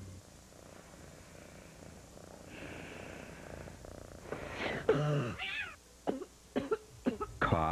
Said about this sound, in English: Cough waking you up in the middle of the night?